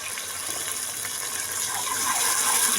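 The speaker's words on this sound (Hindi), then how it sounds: "और इसको हम थोड़ा सा पानी लगा देंगे ताकि हमारे टमाटर अच्छी तरह से गल जाएं।" Water pours steadily onto tomatoes in a cooking pot while kadhi pakora is being made, a close, continuous gushing splash that grows slightly fuller toward the end, with no talk.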